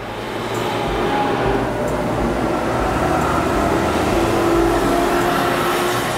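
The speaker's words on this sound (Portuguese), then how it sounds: "isso foi um ônibus?" A bus roars past outside an open window on a hot day, a loud, steady, broadband traffic rumble that fills the whole stretch without a break.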